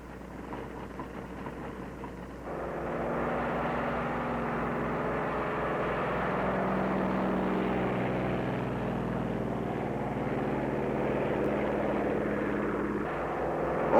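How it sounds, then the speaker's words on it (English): Propeller aircraft engines drone steadily as control planes take off from an aircraft carrier during the 1946 Operation Crossroads atomic tests at Bikini, a continuous mid-distance roar that swells after the first couple of seconds. "Also taking off from the carrier are control planes that will guide the radio-controlled drone boats"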